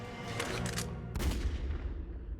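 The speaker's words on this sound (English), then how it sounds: "So they add a gunshot sound effect there." A gunshot effect in a Resident Evil Revelations cutscene: sharp, loud bursts that crack over a steady low rumble, with a heavier blast about halfway through.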